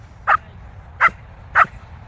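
A dog barks on command during a training session, giving three short, separate barks spaced evenly about two-thirds of a second apart, close and fairly loud over a quiet room.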